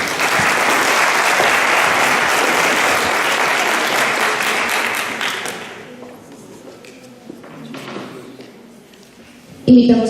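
Loud, sustained applause fills a hall at a Colombian forestry students' congress, then fades after about six seconds, leaving quieter room noise and a sharp thump near the end.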